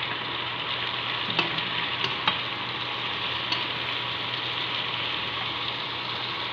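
Bean sprouts frying in a pan for Filipino vegetable lumpia: a steady, soft sizzle runs throughout, with a few light stirring clicks near the start and middle, and no voices.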